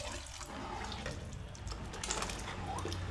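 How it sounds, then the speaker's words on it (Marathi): Water is poured steadily into a pan of cowpea curry (chavali usal), a continuous near splashing rush that runs the full length without talk. "आपल्याला हवं तेवढं पाणी घालायचं"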